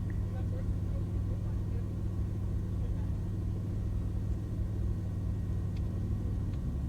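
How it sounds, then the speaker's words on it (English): A car idles at a car show, a steady low engine rumble holding constant and fairly close for several seconds, with no talking over it. "At least you can hear my car running."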